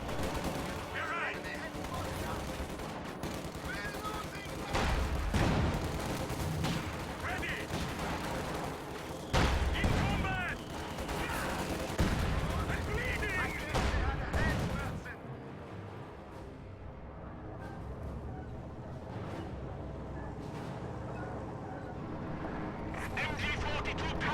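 Heavy mortar and dense gunfire rumble through a real-time strategy game battle, with continuous booms and crackling volleys that thin out partway through, while a voice talks over them.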